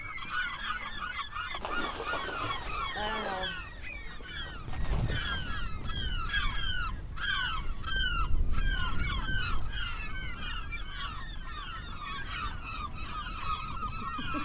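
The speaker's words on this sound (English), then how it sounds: "Seagulls are attacking my muskie." A flock of seagulls near open water gives repeated, overlapping squawking calls as they attack a caught muskie, busy and fairly close, with flapping and splashing beneath.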